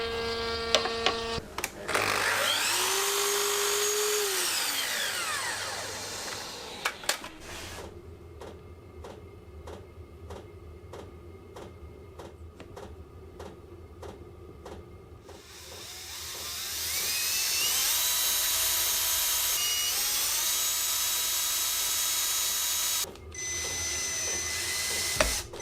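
A router with a 1/2 inch bullnose bit cuts finger holds into the top and bottom of a wooden bread-bin tambour handle, giving loud high whining bursts separated by a steady motor drone, with brief pauses between passes.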